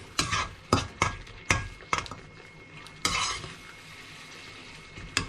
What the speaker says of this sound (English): give it a stir like this